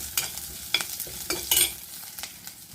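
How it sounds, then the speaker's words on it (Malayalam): Garlic and red chillies sauté in a pan for a simple buttermilk curry, with a soft sizzle broken by several sharp scraping strokes of a spoon against the metal, close and brisk, no talking. "ചുമന്ന മുളകും ഇട്ട് നല്ലതായിട്ടൊന്ന് വഴറ്റിയെടുക്കാം നമുക്കിത്"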